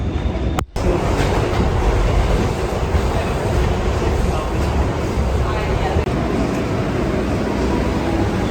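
A New York subway train arrives in a station, a loud continuous roar and rumble of wheels on rails that fills the clip, with a person speaking over it.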